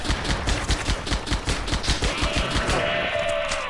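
Sustained light machine gun fire from the Halo SPV3 video game, a rapid, steady stream of loud close shots lasting several seconds, with a faint high tone emerging near the end.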